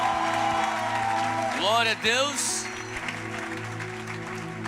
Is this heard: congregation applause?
yes